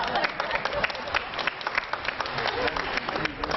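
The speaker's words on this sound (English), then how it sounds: "They're applauding for you" A congregation applauds during a church worship service, with dense, steady clapping filling the whole stretch and voices murmuring underneath.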